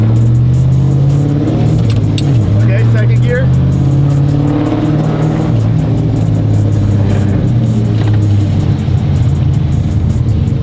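A sequential burnout truck's engine idles loudly and revs in steady waves as gears are shifted, up close, with people talking over it.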